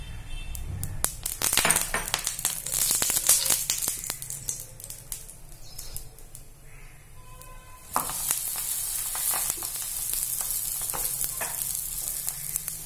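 Ragi keerai adai cooks on an oiled griddle over a medium flame, crackling and sizzling softly before a sudden, louder burst of sizzling that then holds steady.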